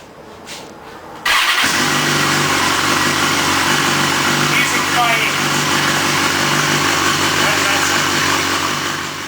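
A BMW S1000RR Gen 1 motorcycle with a TaylorMade racing exhaust cranks and fires up after a brief quiet moment, then settles into a steady, loud, rumbling idle with a raspy exhaust tone.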